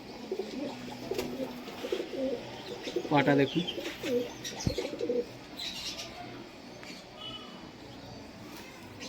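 Closed-tail Pakistani high-flying pigeons coo in low rolling phrases nearby while someone speaks briefly over them, with a short flutter of wings partway through.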